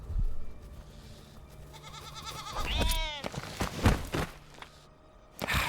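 Goats bleating in a survival video game set near lava: several close, wavering bleats over a steady game ambience, with footstep-like sounds, no talking.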